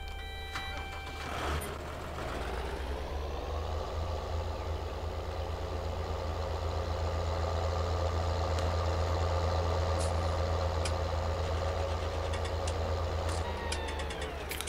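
A Deutz-Fahr tractor in Farming Simulator 19 starts off and drives, its engine settling into a loud, steady diesel drone with faint clicks and beeps.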